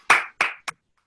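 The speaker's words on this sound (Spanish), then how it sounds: "un aplauso, de verdad" Three hand claps from a single person at an online audiology forum, two firm strikes followed by a shorter, quieter one, close and alone with no other voices.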